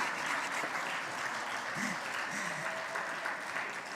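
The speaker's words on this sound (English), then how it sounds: "It's okay to clap" An audience at a country report presentation breaks into sustained applause, a dense, steady roar of clapping lasting the whole stretch, with a faint voice briefly audible beneath it.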